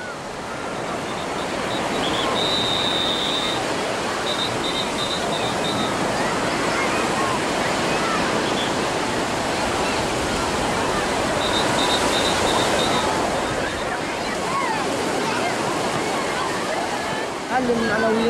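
Ocean waves break and wash onto a beach in Gaza, a continuous loud surf rush with faint voices of people in the water in the background.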